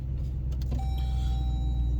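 Car being moved: a steady low engine rumble close by, with a brief mechanical click and a thin whine that rises partway through and holds.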